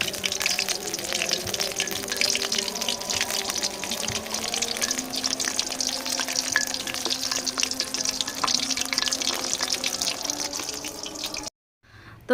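Cauliflower pakoras frying in hot oil give a dense, even sizzle that runs loud and unbroken for about eleven seconds, then cuts off abruptly near the end, with no talk over it.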